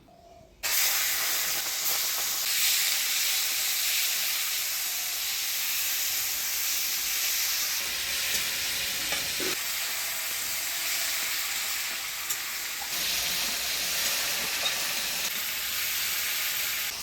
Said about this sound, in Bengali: প্রথমে চিংড়ি মাছটা ভাজি নিব।